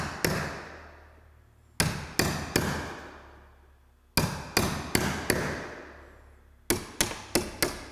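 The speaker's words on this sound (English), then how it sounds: "take a wood chisel and simply cut that marked area out" Sharp chisel strikes cutting a marked notch from the corner of a wooden log at a job site, delivered in bursts of two to five close, loud blows separated by pauses, each hit ringing briefly.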